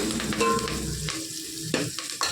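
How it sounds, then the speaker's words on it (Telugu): Vegetables, likely carrot and drumstick leaves for rice, fry in a hot pan with a steady sizzle and a few scraping stirs of a spoon, close and fairly loud, with no talking. "మొదగా కొంచెం పచ్చివాసన పోయేలాగా వేపుకుంటే"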